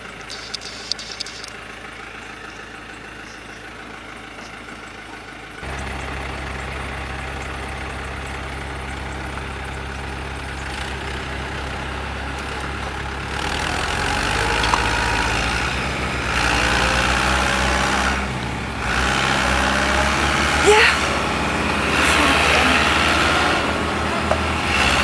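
A tractor engine idles and runs with a low steady rumble, gradually growing louder and rougher as it works before towing a stuck vehicle, with faint background noise and no clear talk.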